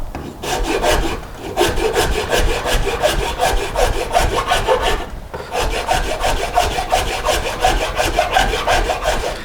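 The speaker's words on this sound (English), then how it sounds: "I'm taking it kind of right down to that line, smoothing it with the files" Steady rhythmic rasping of a file worked back and forth across a carved flame maple guitar top, close and loud, with a brief pause partway through before the even strokes resume.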